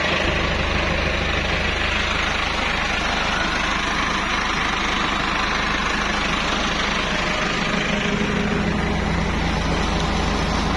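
A diesel tractor engine idles steadily at a farm, driving two tube wells at once; a continuous low rumble with a throbbing drone runs unbroken throughout, close and fairly loud, with no talk.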